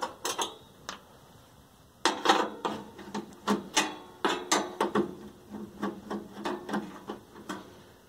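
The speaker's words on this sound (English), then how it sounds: "getting this off, it's a matter of moving the screws" Screws being removed from the back panel of an early-1960s Zenith K2127 19-inch black-and-white television, heard as a run of close, sharp clicks and wooden knocks that come irregularly, bunching toward the middle, with no talking.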